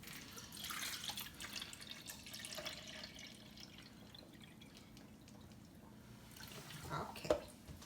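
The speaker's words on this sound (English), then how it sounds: "Pour the water inside here." Water poured into the reservoir of a new Nespresso coffee machine makes a soft, steady splashing trickle, with a brief sharper clunk near the end and faint household background.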